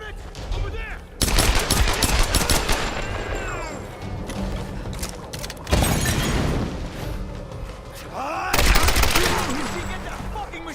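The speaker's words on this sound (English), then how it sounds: "Get that fucking machine gun!" Bursts of rapid automatic gunfire in Tomb Raider (2013), with loud volleys of machine gun fire separated by quieter stretches and a voice shouting over the shooting.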